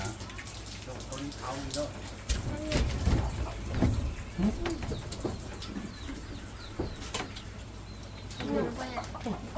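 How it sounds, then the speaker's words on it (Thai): Chicken clucking in a rural home kitchen, intermittent calls heard over steady background noise and rustling, with people talking nearby. "โอ้ยไก่นะ"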